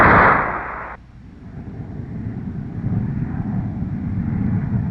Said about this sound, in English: Release brakes, throttle to afterburner.